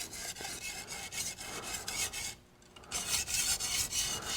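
Culinary knife sharpened on a whetstone with steady, rhythmic rasping strokes, close and continuous, with a brief lull midway before the grinding resumes.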